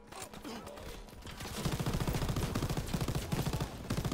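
Rapid automatic gunfire from a hard-recoiling weapon in Call of Duty WW2 during the D-Day campaign, with sustained bursts of close, loud shots over the last two and a half seconds after a noisy lead-in.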